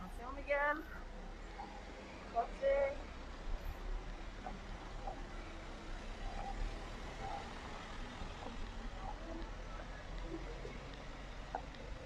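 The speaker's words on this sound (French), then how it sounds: "Bon, on va laisser passer la voiture." A car rolls slowly past on a narrow street in Mijas, its low engine rumble building and fading in the background while people talk and a few beeps sound nearby.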